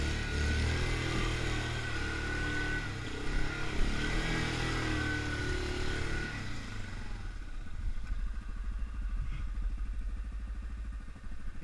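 A Yamaha Grizzly 550 ATV engine churns loudly through a deep, water-filled mud bog, a rough, continuous roar that shifts into a lower, steadier rumble partway through as it changes gear.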